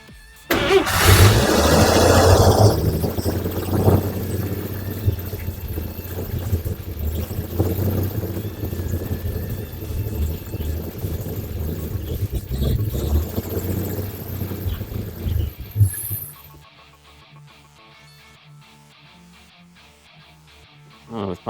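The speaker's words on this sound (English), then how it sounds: "We're just gonna keep it running and pump some of this fuel out, see what it looks like." An old vehicle's engine, sitting for over 17 years and kept alive on spurts of brake cleaner, roars loudly on catching and runs unevenly with surging revs for about fifteen seconds before cutting out, followed by quiet clicks and handling noise.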